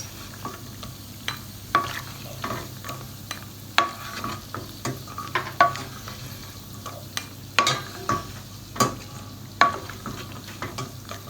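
Dry nuts frying in ghee for suji halwa, with a steady soft sizzle under repeated sharp scrapes and clinks of a spoon stirring against the pan, fairly close and moderately loud.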